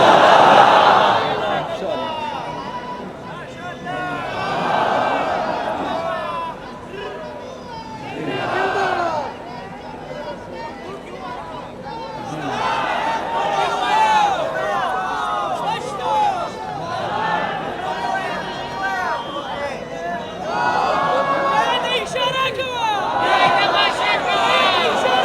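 A large crowd at a political rally conference loudly chants slogans in repeated waves, voices rising and falling together and mixed with cheering through the whole stretch.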